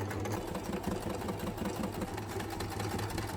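A sewing machine hums and stitches steadily up close while joining the lining of a ballgown, its rapid even needle rhythm continuing without pause.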